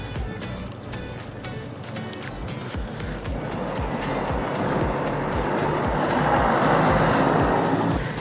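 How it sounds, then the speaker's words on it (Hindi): A truck on a narrow mountain road beside a deep gorge, its engine rumble building steadily from moderate to loud as it approaches and passes close by. "ट्रक आया।"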